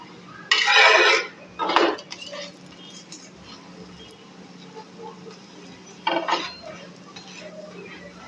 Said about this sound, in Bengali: আমি সাদা তেল দিয়ে ভেজে নিচ্ছি